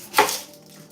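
A kitchen knife cuts open an onion in one crisp, close chop against a board, with a short ringing tail afterward.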